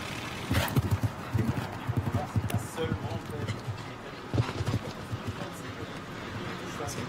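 Horse hooves thud rhythmically on the arena footing during a show jumping Nations Cup round in St. Gallen, Switzerland, close and steady with a brief louder burst midway, while a commentator talks over the top.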